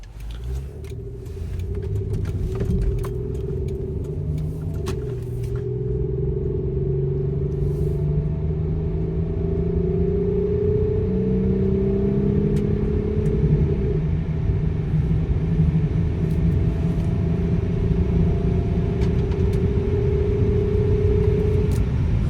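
A car accelerates hard from inside the cabin, its engine drone climbing in pitch through the gears over a steady road rumble, loud and continuous with no talk.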